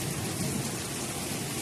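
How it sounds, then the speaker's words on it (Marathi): Rain falls steadily as the rainy season begins, a dense even hiss of drops that is moderately loud and continuous, with no voices. "आता पावसाची सुरुवात झाली आहे"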